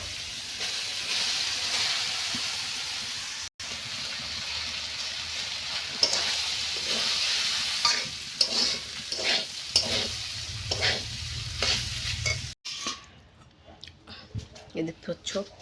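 Cold leftover rice sizzles steadily in a hot pan while a spatula scrapes and stirs it in quick repeated strokes, close up, with someone talking over the cooking.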